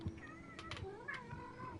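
A house cat meows several times in short rising and falling calls, fairly close, with a voice talking faintly underneath.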